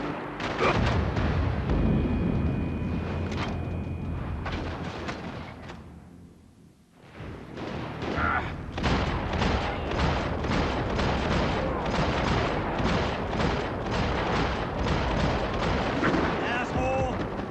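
Heavy, continuous gunfire in a Max Payne 3 firefight, dense overlapping shots and booming blasts with a brief lull midway, while characters shout over the din.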